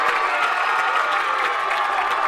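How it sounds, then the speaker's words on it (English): Rugby crowd at a school sports festival field cheering and applauding loudly as the Cambridge team runs on, a dense continuous roar of voices and clapping with no letup. "And the crowd are going crazy here"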